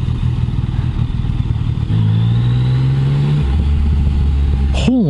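A 2019 Yamaha MT-09 motorcycle's engine heard while riding, a loud continuous drone whose pitch climbs as it revs and then settles back to a lower hum, close up, with a short high-pitched chirp near the end.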